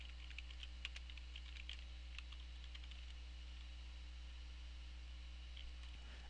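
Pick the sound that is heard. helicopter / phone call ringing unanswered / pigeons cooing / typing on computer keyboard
typing on computer keyboard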